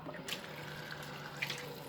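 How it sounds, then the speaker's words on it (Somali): Water is poured steadily into a cooking pot, a soft, continuous splashing pour heard close by for about two seconds. "dabkaa la saari doonaa biyaan ku shubaa."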